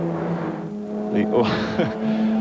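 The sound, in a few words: stock standard race cars racing at Bathurst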